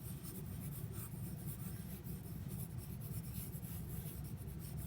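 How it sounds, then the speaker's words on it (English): A pencil scumbles across paper in steady, dense scratchy scribbling, a controlled rubbing texture heard up close and quiet, with no talk. "when you scumble, your pencil stumbles across the paper"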